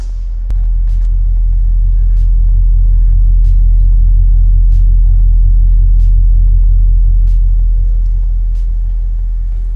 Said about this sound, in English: So I've got a 40 hertz test tone track going.